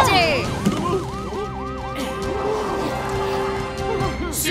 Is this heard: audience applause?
no